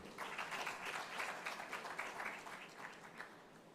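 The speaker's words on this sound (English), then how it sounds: "let's give a warm round of applause and a big welcome for the AIESEC to take over the podium" Audience applause welcoming the AIESEC group at a youth event, a faint, distant patter of many hands clapping that thins out toward the end.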